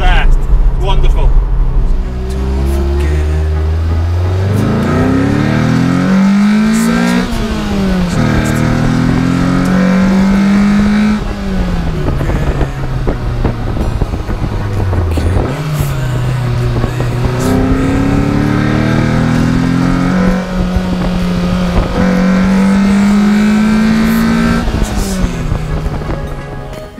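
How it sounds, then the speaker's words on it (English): A car fitted with a homemade induction kit and its resonators removed revs hard through repeated throttle openings, each rising intake roar climbing in pitch then falling back, loud and close, with some speech alongside. "But open up the throttle and the sound's there."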